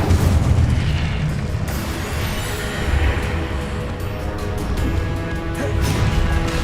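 Confringo and Incendio spell blasts in the Hogwarts Legacy video game, a dense, loud run of booming fiery explosions and crashing impacts that roll on continuously without pause.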